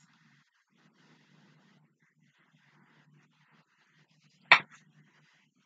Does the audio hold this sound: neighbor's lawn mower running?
no